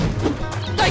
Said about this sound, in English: there is a certain amount of satisfaction that comes from smashing rats with a hammer